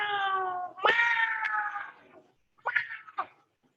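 Several cats meow in turn, a long drawn-out call followed by shorter, sharper meows and a pair of brief cries after a pause, close and fairly clear with no talk over them.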